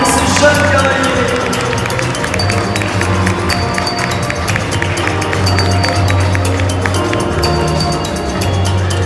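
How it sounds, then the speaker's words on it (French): A large arena crowd at an equestrian show in Lyon cheers and applauds loudly and steadily, with a rhythmic pounding beat and music running through the noise. "Les applaudissements seraient les bienvenus pour ces jeunes guerriers."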